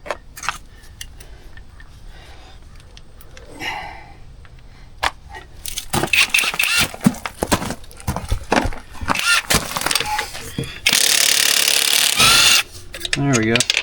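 A power tool fits lug nuts onto CFMOTO ZFORCE wheels with spacers, starting with quieter clicks and clanks, then loud bursts of mechanical ratcheting and a sustained buzzing whir near the end.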